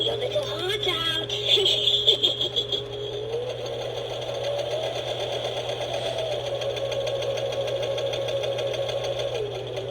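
Skeleton sewing machine Halloween decoration from Joann Fabrics runs with a steady mechanical whir and rattle, faint beeping chirps overhead and a low hum throughout, after a brief burst of spoken phrases at the start.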